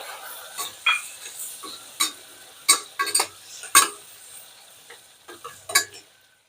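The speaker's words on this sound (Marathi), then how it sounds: "खोबरं टाकलं सर्व वस्तू परतून घ्यायच्या" Tomato and grated coconut being sautéed in a pan for horse gram usal on a gas flame turned to full, with scattered scraping and stirring clacks of a spoon against the pan over a soft sizzle, no talking.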